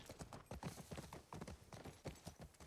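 Rhythmic horse hooves clip-clop steadily and close by in The Last of Us Part II, with no voices over them.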